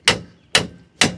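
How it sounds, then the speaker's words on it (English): Three sharp metallic hammer blows, evenly spaced about half a second apart, each ringing briefly as a cast iron brake caliper is knocked back onto its rotor on a 300ZX Z32. The strikes are close and heard alone. "I have to hammer my caliper back onto the rotor."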